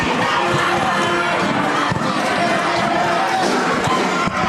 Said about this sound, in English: The Cougar crazies never need prompting to make some noise back in the den.